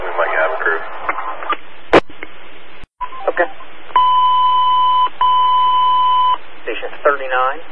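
Fire dispatch radio for a Chester County, Pennsylvania structure fire: a dispatcher talks over the radio, then loud paired alert tones sound in two long steady blocks, with short beeps and squelch clicks around them.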